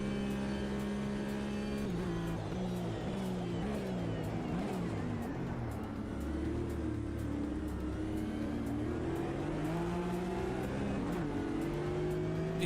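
A Porsche race car accelerates in the racing sim Automobilista 2, its engine droning loud and close and rising and falling in pitch through gear changes, with other cars' engines and faint tire noise mixed in.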